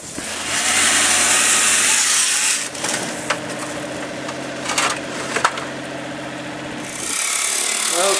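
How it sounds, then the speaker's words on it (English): A chainsaw fitted with a diamond blade grinds through a concrete basement wall, a loud sustained cutting roar that eases into rougher, intermittent scraping and clatter midway before the cutting noise rises again. "we got a chainsaw with a diamond blade on outside, heading on through the wall"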